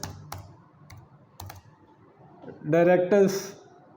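A computer keyboard typed on while setting up Facebook marketing for high-end property sales gives a few scattered clicks followed by a quick burst of keystrokes, with someone speaking over the typing near the end.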